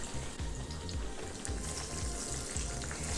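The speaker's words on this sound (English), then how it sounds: "You can add enough oil so you can deep fry it" Sweet plantain slices frying in a good amount of oil, a constant dense sizzle with rhythmic low bubbling pulses underneath, close and steady, no talking.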